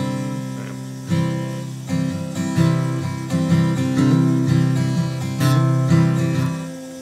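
Guitar strumming the two-measure end-of-verse pattern of a song, with repeated full chord strokes in a steady rhythm, close and fairly loud, with no talking.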